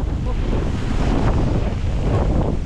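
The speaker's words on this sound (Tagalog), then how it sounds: "Ang lakas pa ng hangin talaga." Strong typhoon wind buffets the microphone in a steady, loud roar, with a rushing whoosh like surf underneath.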